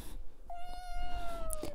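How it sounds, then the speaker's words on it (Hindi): A wet cat meows a single drawn-out, tonal cry that slides slightly downward, with a short sharp chirp at the end, close and clear over faint room noise. "ये गीली हो गई है थोड़ा तो इसलिए म्याओं म्याओं कर रही है।"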